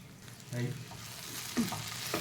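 Stuffed okra (bhindi masala) cooking uncovered in an open pan on low heat, a quiet soft sizzle punctuated by a few brief stirring scrapes and clinks, with no talk.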